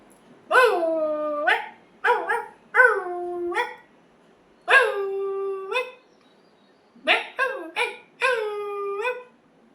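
A voice imitates a small dog's yappy barks and whines in several short bursts, some doubled or tripled, with pauses between.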